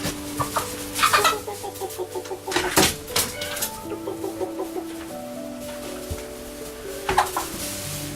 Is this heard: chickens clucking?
yes